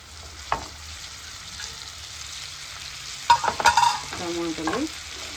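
Vegetables stirred in a pan for pasta: a quiet background sizzle, a single sharp clink near the start, then a brief cluster of spoon-on-pan scrapes and clatter toward the end.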